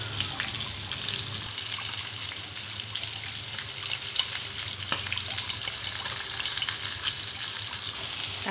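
Cooking oil sizzles steadily in a pan where fish is being fried, a close, continuous crackle and hiss with occasional small pops and no talking.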